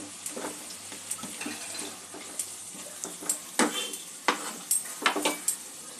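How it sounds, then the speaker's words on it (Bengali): Potatoes sauté in a pan for a Bengali boal fish curry. A soft sizzle sits under repeated scraping and clanking stirs that grow quicker and louder toward the end. "আলু দিয়ে একটু কষিয়ে নেব।"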